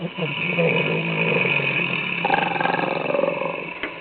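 A storyteller's voice imitates a giant snoring in a children's telling of Jack and the Beanstalk, one long, deep, rumbling snore held steadily for several seconds, close and loud with no other sound.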